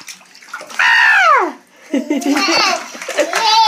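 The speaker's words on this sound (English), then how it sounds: "Are you splashing?" A child in a bathtub, with bursts of lively vocalizing and squealing over watery splashing, close and loud, in a short burst of playful bath-time noise.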